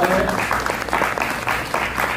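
An audience claps steadily for performers after a stage drama, a sustained dense round of applause with some voices murmuring underneath.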